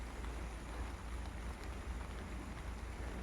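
Steady rain pouring down in a continuous broadband hiss with a low rumble beneath, no voices present.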